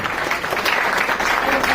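An audience claps at a wellness and agro company introduction event, a brief continuous burst of many hands clapping together at close range.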